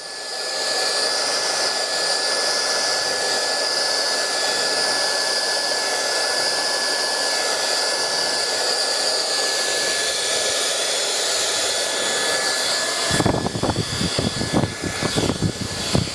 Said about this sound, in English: I'm using the hairdryer at the root area and encouraging that root area up and away, straight away